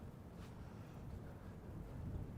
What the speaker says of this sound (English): indeed it is windy, yeah. And I have a wind cover mic on.